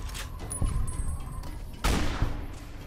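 Gunfire in the Fallout video game while shooting at Centaurs, with a sniper rifle in play: a few sharp, loud shots with a heavy boom, spaced apart over a dim game ambience.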